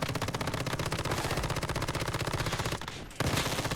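Rapid automatic gunfire pours continuously from a weapon while a boss is fought in the survival shooter Once Human, loud and close with only a short break near the end.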